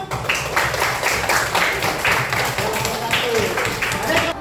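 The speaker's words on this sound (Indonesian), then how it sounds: "Oke, tepuk tangan dulu" A classroom of students claps their hands together in a steady, fairly close patter of many hands, with voices mixed in throughout.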